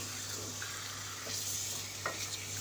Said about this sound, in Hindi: मीडियम फ्लेम पर हमने चिकन को फ्राई करना है।